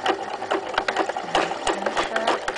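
A sewing machine back stitching over the edge of a lower pocket on a locker caddy, a steady rapid mechanical whirring with tight stitch clatter, close and continuous, while someone talks over it.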